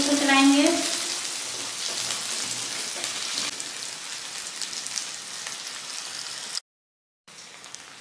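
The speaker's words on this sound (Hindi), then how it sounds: "प्याज को मैं दो मिनट तक चलाऊंगी, थोड़ा सा ब्राउन हो जाएगा।" Chopped onions fry and are stirred in a pan for an Indian potato-and-onion sabzi, a steady rain-like sizzle that starts loud, settles into an even hiss, cuts out briefly near the end, then returns.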